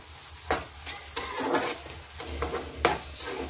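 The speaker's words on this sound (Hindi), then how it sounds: "मैं सबसे पहले इसमें चिकन ऐड कर देती हूँ जो मैंने क्यूब्स की फॉर्म में काटा है" Chicken cubes frying in oil in a pan, a soft sizzle broken by several scraping stirs of a spatula, close and moderately quiet with no talking.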